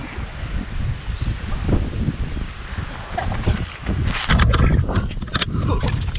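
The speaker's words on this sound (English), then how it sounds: "She's windy, mate." Wind buffets the microphone outdoors in strong, uneven gusts, with a low rumbling roar and bursts of rustling noise that grow louder toward the end.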